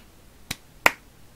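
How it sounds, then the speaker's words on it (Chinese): Two sharp hand claps, one just under half a second apart, in a quiet room during horror game Hanako's lost diary, clapped to switch the lights on; the second clap is louder. "所以现在呢，拍拍手就能把灯打开来。"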